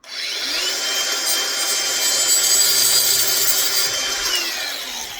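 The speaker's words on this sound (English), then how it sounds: "I'm going to take the grinder again and cut off that excess." Angle grinder cutting off excess metal on a clothesline part, one continuous loud high-pitched grind held close for several seconds without pause.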